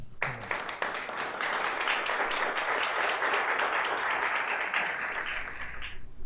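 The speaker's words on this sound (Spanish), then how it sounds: "En este momento quiero pedirle un aplauso para doña Marian de Tolentino." An audience at an evening talk about Pablo Picasso breaks into applause, a dense, sustained round of clapping that swells quickly and holds steady for several seconds before cutting off.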